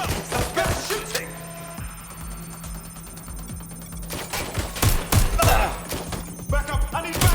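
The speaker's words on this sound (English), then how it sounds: "Shots fired!" Gunfire in the Watch Dogs Legion video game, dense bursts of shots and thuds with rapid volleys at the start and end, over a constant electronic hum and shouted voices.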